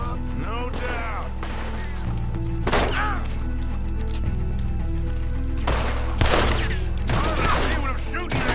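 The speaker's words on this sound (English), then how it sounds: "See what I'm shooting at? If it moves, blast it." Dense gunfire from a shooting game, with bursts and sharp crackling shots over a constant low rumble and drone, several louder blasts standing out, and game voices talking between the shots.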